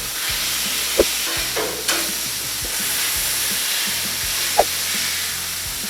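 Burger patties smashed flat on a Blackstone griddle, giving a steady loud sizzle with a few sharp scraping clicks from a spatula, heard up close.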